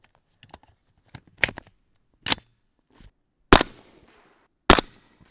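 Subsonic 300 Blackout rounds with 240-grain Sierra MatchKing bullets fired from an 8.5-inch barrel, several sharp cracks spaced about a second apart, with smaller clicks and handling sounds between shots.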